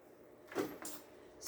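A pantry door in a home swings open, giving a quiet, brief bump and soft rush of movement, then a faint second knock, heard close with no talking.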